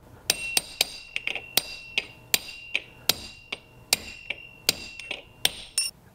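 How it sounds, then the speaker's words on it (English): Light metal punch taps on a Briggs lawnmower carburetor float bowl, about fifteen sharp ringing strikes in an even rhythm, close and clear with a brief metallic ring after each hit. "You can just lightly punch it down a bit."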